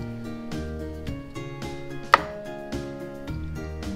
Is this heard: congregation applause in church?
no